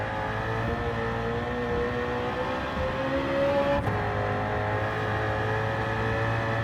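Engine-swapped BMW M3 racing on Tokyo Expressway in Gran Turismo 7, a steady sustained engine drone holding at high revs, with a brief dip mid-way as the car brakes, continuous and close throughout.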